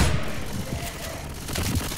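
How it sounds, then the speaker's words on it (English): Frag rounds fire in Left 4 Dead 2 in a dense, noisy burst of gunfire and explosive cracks over about two seconds, with game chaos and a faint voice mixed in. "Deploying frag rounds!"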